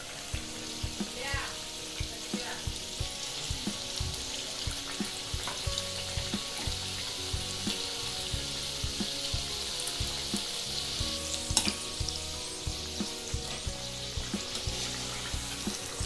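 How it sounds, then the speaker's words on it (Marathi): Potato samosas deep-frying in hot oil on a medium gas flame, one at a time, with a steady dense crackling sizzle that keeps going throughout, plus occasional clinks and stirring. "आता आपण एक एक समोसा तळून घेऊया"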